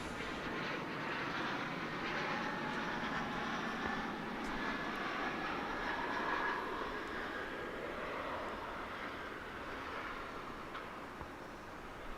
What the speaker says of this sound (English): Here's that flight from Stillwater, Oklahoma.